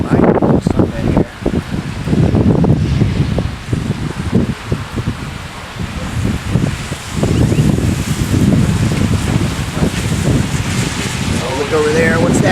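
Strong wind gusts roaring during a severe storm with tornadic rotation, a loud continuous rushing and buffeting against the microphone with rustling, surging and easing over several seconds while a person speaks briefly.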